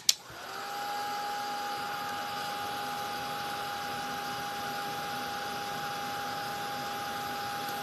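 A hair dryer runs steadily close by, drying fresh paint on a home breadboard, with a sharp switch-on click followed by a constant whirring hum and airy rush that holds unchanged throughout, no talking.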